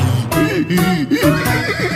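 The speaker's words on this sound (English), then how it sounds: "And he would neigh when she went away." A horse neighs within a children's alphabet song, a whinnying cry with wavering pitch set against the music and close in the mix.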